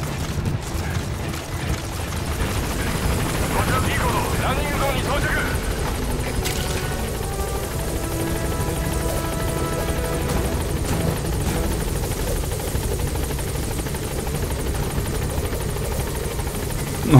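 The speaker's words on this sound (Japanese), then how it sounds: "さあ、ヘリ早く来い。" In the Metal Gear Solid V video game, a helicopter arrives at a landing zone with a loud, steady rotor drone lasting throughout, while a person talks over it.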